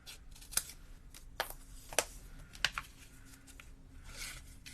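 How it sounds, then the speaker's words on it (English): Scissors snipping around printed card during a Bee My Valentine papercraft session, a few crisp, quiet cuts spaced irregularly over a soft background hiss. "Scissors."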